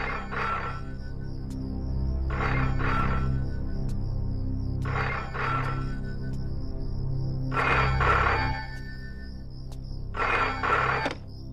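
A telephone rings insistently at home amid repeated blank calls, five evenly spaced double bell trills, loud and close over a low background hum, no talking.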